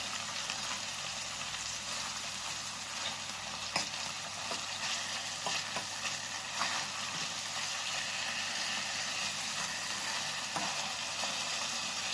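Chicken breast sizzles steadily in a hot pan on a griddle, a dense, even frying hiss that holds close and unbroken with no talk over it.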